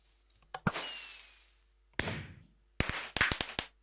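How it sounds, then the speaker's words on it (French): Bursts of bright crackling and fizzing sparkle in short sequences from a Minecraft 1.4.7 firework rocket with a glowstone crackle effect, each dying away, with a rapid cluster of sharp pops near the end. "ça grésille, on va dire, ça fait des étincelles, on entend très bien le bruit"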